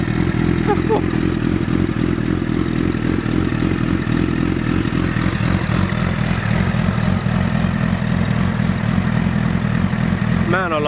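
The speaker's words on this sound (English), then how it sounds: "That's what 1000cc sounds like." A 1000cc inline-four superbike engine runs steadily at idle, a loud continuous rumble with a low throb and slight clatter, close by, with a brief blip of revs near the end.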